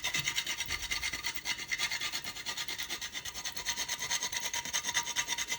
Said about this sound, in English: I'll grate this for about 20 seconds. You've got a mini grater.